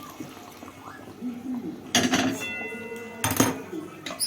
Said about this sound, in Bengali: এবার দিয়ে দিচ্ছি এই যে আগে থেকে ফুটিয়ে রাখা গরম জল